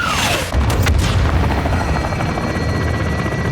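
Artillery strike from pre-assault fires in the Modern Warfare 2 Remake video game: a loud, close explosive roar that thunders on continuously, with a descending whistle before the deep rumbling blasts and helicopter-like drone throughout.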